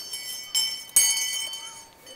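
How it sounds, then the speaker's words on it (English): A hand bell is rung outdoors at a rain dance in Pennsylvania, giving two or three bright metallic strikes with a lingering ring, moderately loud against quiet background. "anybody who wants to ring the bell, go ahead and ring it"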